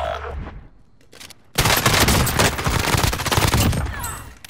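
Rapid automatic gunfire in Call of Duty: Modern Warfare bursts in loudly after a quieter opening and keeps going as a dense, sustained volley of shots to the end.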